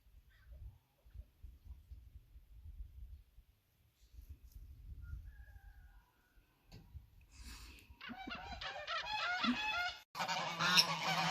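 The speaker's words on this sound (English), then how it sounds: "Goose party, goose party." Geese on a small farm start with soft, low thumping and shuffling, then break into a loud, close chorus of repeated honking that grows busier over the last few seconds, with no talking.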